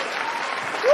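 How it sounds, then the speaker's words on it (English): A crowd applauds loudly in a steady, dense wash of clapping with some cheering, continuous and close throughout a brief stretch. "that crowd is fired up"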